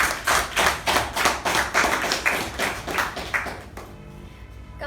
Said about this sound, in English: Let us give Toastmaster Ujwal a huge round of applause